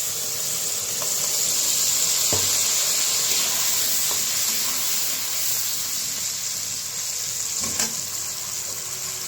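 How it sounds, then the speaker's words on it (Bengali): Spice paste frying in a pan after potatoes were browned, for a snakehead (shol) fish curry: a steady broad hiss of sizzling oil throughout, with a couple of faint clinks, no voices. "পেস্ট করে রেখেছি মশলাটা দিয়ে দিই"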